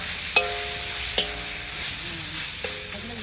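Ground meat mixture seasoned with salt is stirred in a sizzling pan, with a few sharp spatula knocks against the metal standing out over a soft, steady frying hiss; no voices.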